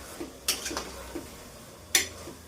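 A spoon stirs spices into vegetable pulao in a pot, giving a few faint scrapes and sharp metallic clinks spaced apart in a quiet kitchen.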